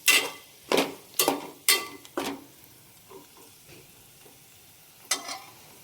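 Dried fish (sukat) with chilli and spices being fried and stirred in a pan: several sharp bursts of sizzling and spatula scraping in quick succession, then a quieter stretch of low sizzle before one more stir near the end.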